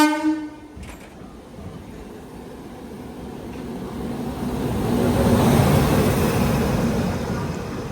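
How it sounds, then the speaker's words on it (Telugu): A passenger train pulls into an Indian railway platform. A brief horn-like tone at the start gives way to a low rumble of wheels and carriages that swells steadily and stays loud and close. "ఒక్క ప్లాట్ఫామ్ లోకి బండి వస్తుంది."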